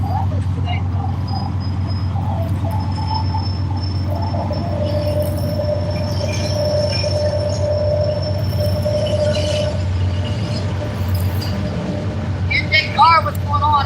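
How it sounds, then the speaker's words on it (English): Train passing near a fishing spot, a steady low rumble of rolling wagons with drawn-out wheel squeal tones running through it, loud and continuous, with a person talking over it. "And our third train, folks."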